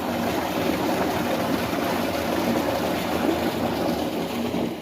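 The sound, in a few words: water flowing from solar-powered tubewell motor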